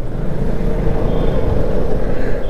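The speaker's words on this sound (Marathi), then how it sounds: "आणि हे माणगावचं नेहमीचं ट्रॅफिक आहे." Road traffic on the Mumbai-Goa highway at Mangaon, heard from a motorbike, makes a steady, loud low rumble of engines and tyres with a faint whine, continuous and without speech.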